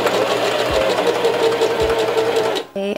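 A sewing machine running a straight stitch, a loud continuous motorized whir held steady for a few seconds before stopping briefly and starting again.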